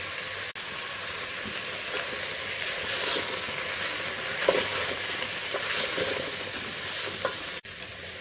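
Steady sizzling of turmeric and chilli powder frying in hot oil for sambar, with occasional scraping and stirring sounds from a utensil in the pan.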